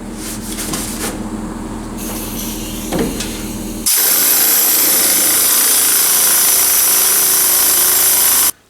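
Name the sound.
sanding car body panels with sandpaper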